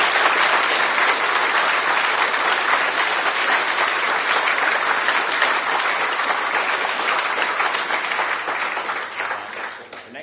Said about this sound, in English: Could you give them all a huge round of applause?